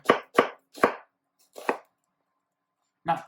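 Onions are sliced about 1/4 inch thick with a kitchen knife, three quick crisp cuts, then a slower one and a final chop after a pause, close and dry with no voices.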